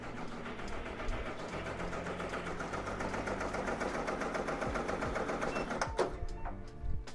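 Embroidery machine stitching a design for apparel in a home printing shop, a steady fast mechanical whirring and clatter that runs close and continuous before tapering near the end.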